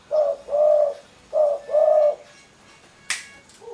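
A derkuku or tekukur dove, a pet bird kept indoors in a living room, gives four rhythmic coos in two pairs, fairly close and clear, followed by a sharp finger snap near the end.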